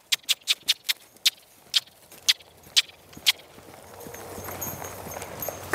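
Horse hooves clip-clop in a quick, evenly spaced series of sharp close strikes during a canter while being trained for the saddle, then fade into a rising rustle of ground noise.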